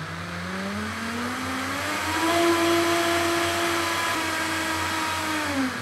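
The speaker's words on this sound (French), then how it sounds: "On mixe le tout. Donc surtout faire bien attention avec le mixeur" A blender purees pumpkin soup in a continuous loud motor whine that rises in pitch, holds steady, then dips slightly near the end.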